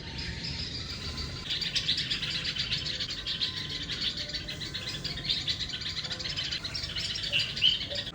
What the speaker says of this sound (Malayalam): നമ്മുടെ മുറ്റത്തെ ചെടികളിലെ കിളികളൊക്കെ ഉണ്ടല്ലോ, വൈകുന്നേരമാണ് ഭയങ്കര ആക്റ്റീവ് ആവുന്നത്.